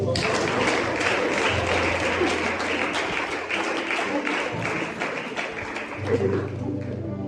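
Church congregation applauding to acclaim the Lord, a dense, continuous patter of clapping hands that fills the room close by, with murmured voices mixed in and a low hum underneath.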